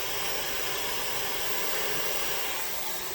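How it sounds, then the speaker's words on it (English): A handheld blow dryer runs steadily while drying hair at the roots, a loud, continuous airy whoosh held close and unbroken throughout. "I'm going to continue blow drying"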